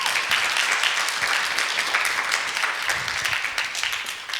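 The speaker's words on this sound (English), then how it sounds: "I think she should get another round of applause for that" An audience at a science event gives a speaker another round of applause, a dense, steady crackle of many hands clapping at moderate loudness that holds evenly and eases slightly toward the end.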